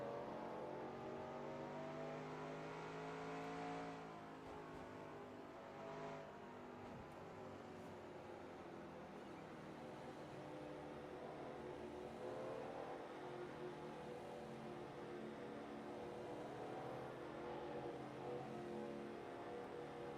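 Several race car engines in a retro racing video game drone and whine together at a steady, dense roar with no break, like a pack of cars running at speed.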